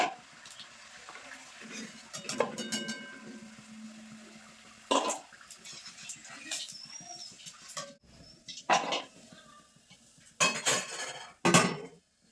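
Fried goja pastries lifted from hot oil with a metal slotted spoon: scattered loud clanks and scrapes against the pan between quieter stretches of faint bubbling, close by and without talk.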